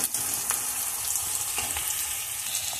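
Whole garam masala, onion and ginger-garlic paste hit hot oil with sugar in the pan, giving a dense continuous sizzle with a few scraping accents, close and fairly loud throughout.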